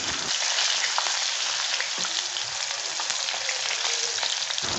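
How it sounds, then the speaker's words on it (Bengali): Chopped onions fry in hot oil with a little fenugreek for a pumpkin and prawn curry, producing a loud, dense, continuous close sizzle that starts abruptly and is accompanied by a few faint stirring sounds. "সামান্য একটু মেথি তেলের মধ্যে গরম করে তার মধ্যে কুচনো পেঁয়াজ দিয়ে পেঁয়াজগুলিকে খুব ভালোভাবে ভেজে নিতে হবে।"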